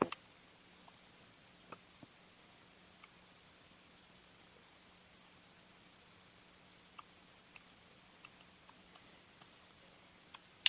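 Sparse, faint computer mouse clicks while paging back through notes: isolated sharp ticks scattered irregularly, some closely paired, over a quiet room hiss with a low steady hum and no talking.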